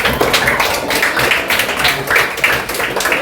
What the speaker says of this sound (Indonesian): Tepuk tangan untuk anak soleh dan solehah.